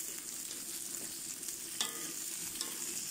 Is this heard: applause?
no